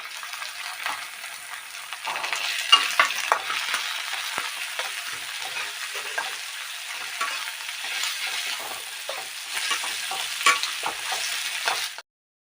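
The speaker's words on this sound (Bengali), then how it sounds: "পেঁয়াজটা হালকা লাল ভাজা হয়ে গেছে, খুব সুন্দর।" Onions sizzle steadily in a pan with garlic, chili and tomato while being stirred, giving a constant close frying hiss with light scraping. The sound stops abruptly at the end.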